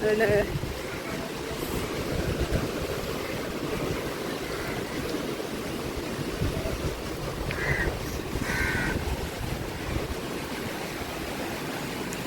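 Ocean waves surge onto the Jaffna shore after a cyclone, a dense, steady roar of surf with buffeting wind noise throughout and occasional faint voices in the background.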